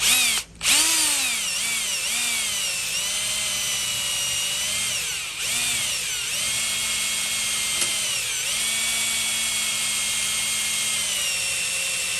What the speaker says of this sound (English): let's just go ahead and drill our first hole here in aluminum